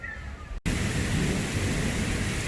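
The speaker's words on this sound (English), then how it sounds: "it has finally rained. The rain has finally come." Rain arrives over a cottage garden: after a brief cut, a steady, close hiss of falling rain fills the air, with a low thunder rumble rolling beneath it.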